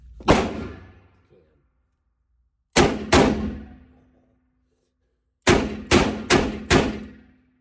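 A Colt Python revolver is fired repeatedly, sharp loud reports coming one at a time, then a pair, then a fast string of four, each ringing out with short decaying echo.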